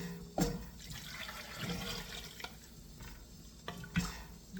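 Liquid being poured over potatoes and carrots in a pot of beef stew, a close splashing, gurgling pour with a couple of sharper clunks, moderately loud and without talk.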